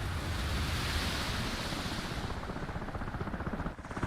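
Water in a flight video game after an F/A-18C crashes into the sea off a carrier deck, a steady loud broadband wash of surf and wind that keeps going throughout and dips briefly near the end.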